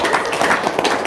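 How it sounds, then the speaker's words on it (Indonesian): A small group of people claps hands together in a quick, close burst of sharp, uneven claps lasting about a second. "Nah, tepuk tangan dong."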